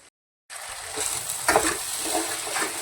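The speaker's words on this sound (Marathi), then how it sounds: "त्याच्यामध्ये हे बारीक केलेलं वाटण हे टाकून घेऊ याला तेल सुटतपर्यंत करपून टाकायचं" Ground masala paste fries in oil for soybean bhaji. After a brief silence, a loud, continuous sizzle starts up, with a few stirring scrapes and crackles.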